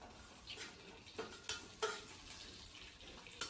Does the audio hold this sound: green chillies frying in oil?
yes